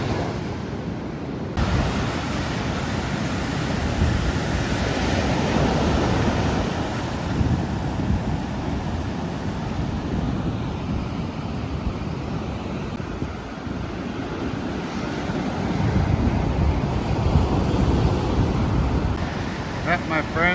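Ocean surf rolls in continuously along the rugged Big Sur coastline at low tide, a steady broadband roar with wind buffeting the microphone and no voices.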